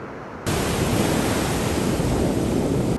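Ocean waves wash in by a pier at sunset. After a short quiet opening, a loud, continuous rush of surf starts and stays steady and close until it cuts off near the end.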